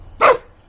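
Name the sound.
dog barking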